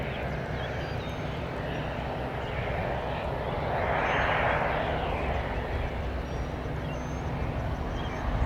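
A fixed-wing airplane comes in to land on runway 26 left at Spirit of St. Louis Airport. Its engine drones steadily and swells to a broad roar midway before easing off again, with no talk.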